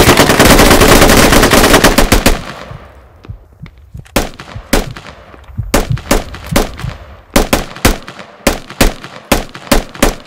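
Heavy automatic gunfire in the tactical shooter game Squad: a loud sustained burst at the start, then after a short lull a run of sharp single and double shots spaced at an uneven, rapid rhythm.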